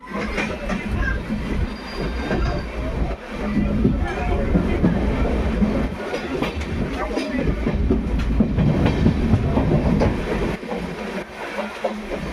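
A late-running passenger train heading into Mumbai near Thane rumbles steadily on its rails, with a continuous loud low roar and clatter throughout; voices chatter faintly underneath.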